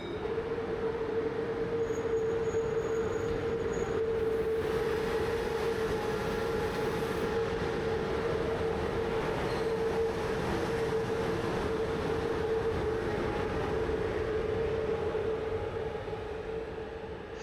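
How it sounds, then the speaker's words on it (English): Train at a border station during a locomotive change, with a Romanian Class 41 detaching and a Siemens Taurus MÁV Class 470 arriving; a steady low rumble and engine hum continue throughout, with a constant tonal drone. "Here there's a change of locomotives. The Romanian Class 41 detaches and vanishes into the dawn."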